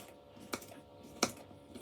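A knife cuts a cucumber into cubes on a board in a kitchen, giving two crisp taps about half a second apart, faint and close, with no talking.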